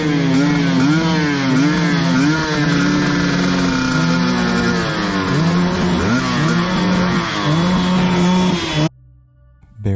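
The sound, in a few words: motorcycle engines revving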